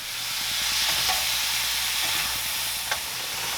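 Burger meat frying in a pan, a steady, loud sizzle and hiss with faint stirring scrapes and one brief clack near the end.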